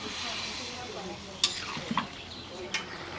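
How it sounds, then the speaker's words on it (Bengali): A spoon works tomatoes into a bubbling curry in a pan, stirring steadily over a soft continuous sizzle, with a few sharp clinks of utensil against the pot along the way. "টমেটোগুলি নাও, একদম নাড়া দিয়ে মিলাই দাও।"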